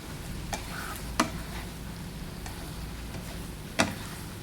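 Straw mushrooms and egg are stir-fried with fish sauce in a pan, giving a low steady sizzle punctuated by a few crisp spatula taps against the pan.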